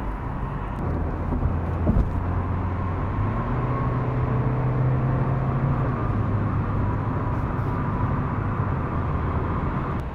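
A BMW G30 520d Luxury diesel sedan pulls away and accelerates on an open road, its engine note a steady low drone heard from inside the cabin, with a rising tone as it gathers speed and a faint thump near the start.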